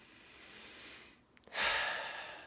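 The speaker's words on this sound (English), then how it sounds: "just by breathing in and out," Slow breathing close to the microphone: a long soft exhale fades out, a brief pause with small clicks follows, then a sharp, airy inhale swells loudly and tails off.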